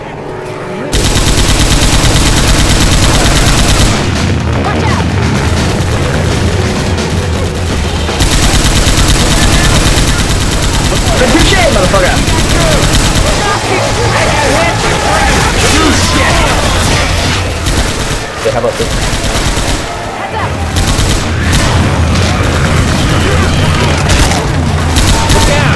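Sustained Left 4 Dead 2 gunfire, dense automatic bursts and heavy booming shots almost without break through a frantic fight, with short lulls and voices talking underneath.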